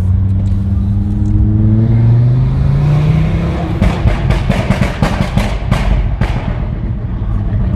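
Loud Audi RS3 engine revving with a deep exhaust roar, climbing in pitch, then rough crackling bursts as the throttle drops off.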